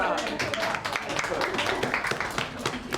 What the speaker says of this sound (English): We got a round of applause of about 10 people after we'd finished making the sausage